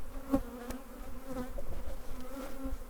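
Honey bees buzzing steadily around a nucleus hive during beekeeping, a continuous close droning hum with individual bees passing near.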